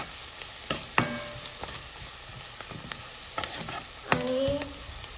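Salted onions frying in a pan, a steady soft sizzle with occasional scraping stirs and small clinks of the spoon, close and moderately quiet, no voices.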